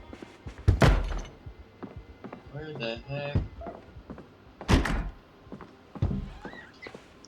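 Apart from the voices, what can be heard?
zombie banging in video game Project Zomboid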